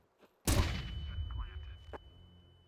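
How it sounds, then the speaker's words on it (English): A flashbang grenade in a video game goes off with one sudden loud blast that trails into a decaying rumble, followed by a brief sharp crack. "Deploying flashbang."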